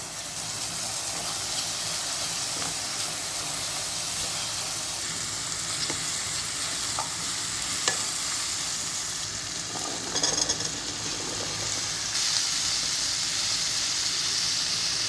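Tomatoes frying with a little salt and turmeric in a pan while cooking chole masala: a steady close sizzle and hiss with occasional stirring scrapes, no talking.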